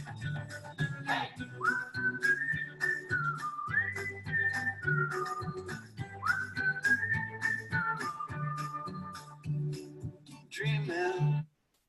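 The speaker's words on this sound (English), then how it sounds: "You did the whistle part, which I think is genius." A whistled melody carries a song part, a clear sustained tune with sliding notes running for about eleven seconds over steady rhythmic accompaniment before stopping abruptly.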